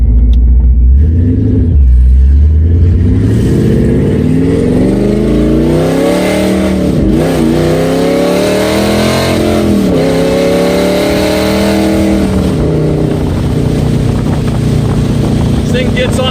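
Supercharged 1000+ hp 2012 Ford Mustang GT Convertible Premium, an engine revving hard while driving, loud and close, its pitch climbing and dropping through gear changes, with a voice speaking over it.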